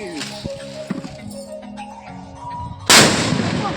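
A snake firecracker ignites during Diwali celebrations, bursting into a loud, sustained fizzing hiss after a few clinks and knocks, with people talking nearby.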